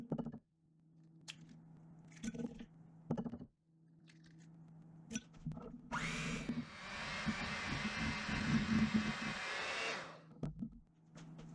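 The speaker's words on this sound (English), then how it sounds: "just kind of mix that all up until it's smooth and fully combined" Vanilla and eggs are mixed into gluten-free Milano cookie dough. Scattered clinks and handling noises come first, then an electric mixer whirs steadily for about four seconds before stopping.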